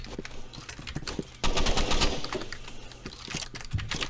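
Rapid bursts of automatic gunfire in the Roblox shooter Rivals, a rattling clatter that starts, pauses and then rips on loudly and continuously through most of the clip, with no talk.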